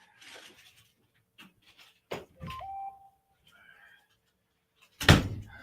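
A door closes with a single sharp thud near the end, after a quiet stretch of faint indoor shuffling and a short beep.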